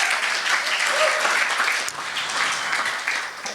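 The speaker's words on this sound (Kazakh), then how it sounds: "Әлбетте, шапалақ, қошаметлер." Enthusiastic audience applause at a Karakalpak-language stand-up comedy show, a dense sustained wash of clapping from a full crowd that swells and dips slightly before continuing.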